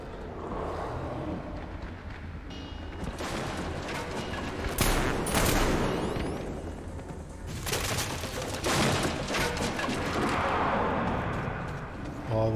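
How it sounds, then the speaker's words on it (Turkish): A gun firing in Metro Exodus, with repeated bursts and single cracks scattered through a noisy firefight, loud and near, while someone talks over much of it. "Çok güzel vuruyor bu silah abi."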